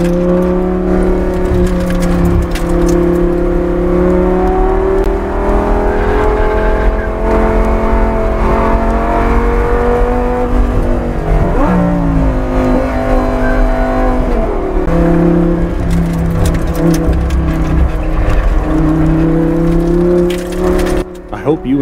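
A Lamborghini Gallardo GT race car runs a full lap, its engine droning loud and steady throughout, with pitch rising and falling through gear changes and a brief lift-off dip midway.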